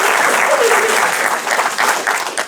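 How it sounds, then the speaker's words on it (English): An audience at a youth mental health awareness talks event applauds, a dense, steady clapping from a crowd filling the room throughout. "I think that deserves a round of applause from me."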